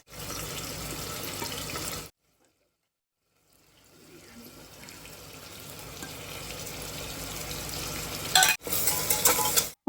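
Onions frying in a pan for chicken biryani: a steady, close sizzle that cuts out briefly, then returns and grows louder, with a stirring clatter near the end.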